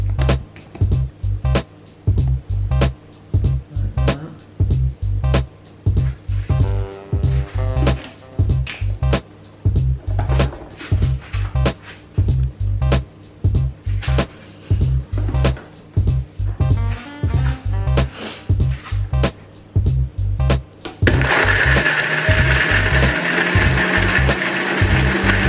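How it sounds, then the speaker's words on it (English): A kitchen blender works cheesecake batter with coconut oil in repeated short pulses, a rhythmic loud whir that stops and starts, then runs continuously near the end. "So I'm going to blend that all up."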